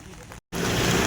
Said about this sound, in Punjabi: ਬਾਰਿਸ਼ ਚੱਲੀ ਜਾਂਦੀ ਹੈਗੀ